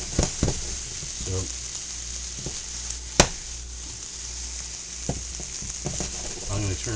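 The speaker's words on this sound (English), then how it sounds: "I've sauteed it in butter and just a little bit of oil" Acorn squash sautéing in butter with a little oil in a pan, a steady close sizzle with occasional clinks and scrapes of a utensil stirring, plus brief murmurs of a voice.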